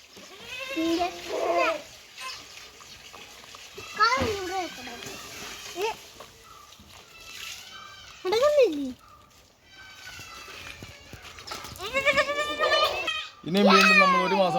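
A goat on a Kerala farm gives several short bleats scattered between bursts of nearby talk, including a voice, fairly close and moderately loud.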